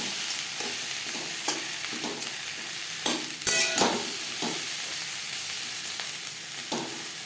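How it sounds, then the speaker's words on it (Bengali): Whole spices fried in a pan over low to medium flame for butter chicken, a steady close sizzle broken by the scrape and clatter of stirring, with a louder burst of crackle midway. "লো টু মিডিয়াম ফ্লেমে মশলা বেশ ভালো করে ভেজে নেব"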